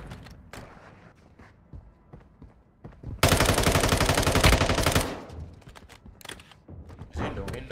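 A loud burst of automatic gunfire from players shooting in Warzone Mobile, lasting about two seconds, with quieter game sounds and a voice talking before and after.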